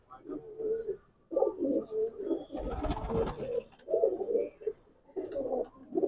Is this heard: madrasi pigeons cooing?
yes